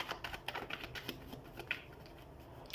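Tarot cards are shuffled and handled up close, a soft, quiet patter of flicking and sliding card edges in quick, irregular bursts with no talking.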